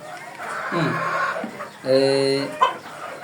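About thirty desi hens cluck close by in a backyard flock. Short clucks and a drawn-out call rise over a person talking.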